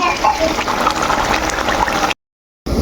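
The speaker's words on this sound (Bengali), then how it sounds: "দুই পাশে গরম পানি দিচ্ছি" Hot water pours steadily into a pot of duck meat with a splashy, hissing rush, continuous for about two seconds before cutting off briefly and resuming.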